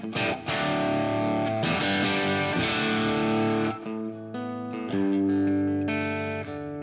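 An electric guitar plays through a Fractal preset with a semi-clean crunch tone and medium plate reverb. It is a clear, dynamic phrase of picked notes and chords that ring out, with no talking.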